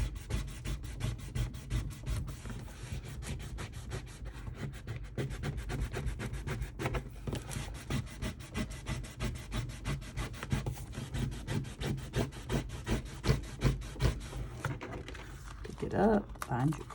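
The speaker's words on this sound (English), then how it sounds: "Now that is what you're going to rub on. And let's lay it out and rub it on." A rub-on transfer pressed onto a Simple Stories Simple Vintage binder with quick, steady back-and-forth scraping strokes, close and continuous, with brief pauses and a shift in texture near the end.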